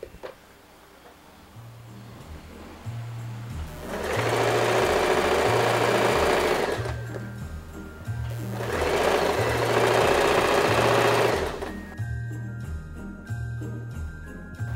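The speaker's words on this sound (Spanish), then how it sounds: "El bajo lo vamos a coser doblando solamente medio centímetro hacia arriba." A home sewing machine with a size 80 ballpoint needle hems a dress, folded half a centimetre, in two loud sustained bursts of rapid stitching separated by a brief pause, with a faint rhythmic hum in between.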